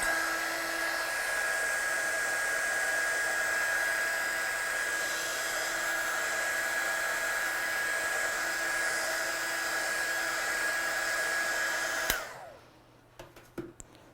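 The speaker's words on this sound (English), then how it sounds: "I'm just going to dry that off with my gun." A heat gun blows a steady, loud, high whine while drying a watercolour background on card. It cuts off abruptly near the end, leaving a few faint knocks.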